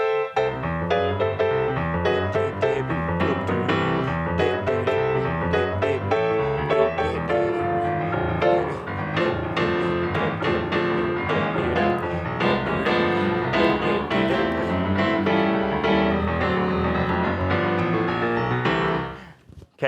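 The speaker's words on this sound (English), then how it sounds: "if I'm going to play Stars and Stripes Forever as a boogie-woogie, I'm going to play." Stars and Stripes Forever rendered as boogie-woogie on piano, with a busy rolling left-hand bass under the melody in the right hand, dense and loud throughout before stopping at the end.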